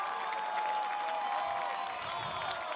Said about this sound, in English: the crowd goes absolutely crazy here for the St. Mary's Gales